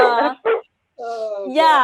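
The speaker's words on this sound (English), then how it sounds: "My dog is barking." A dog barks and yips close by in short bursts, overlapping with people talking and laughing.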